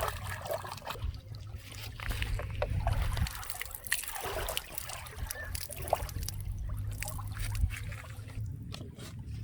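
Lake water trickles and splashes softly while fish fillets are washed at the shore, a faint, irregular dribbling with small sloshes and scattered clicks.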